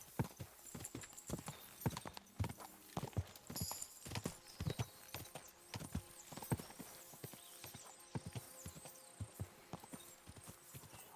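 Horse hooves clip-clopping in the video game Kingdom Come Deliverance 2, a quick, irregular run of hoof strikes that continues throughout, fairly quiet, with an occasional faint whinny and no talk.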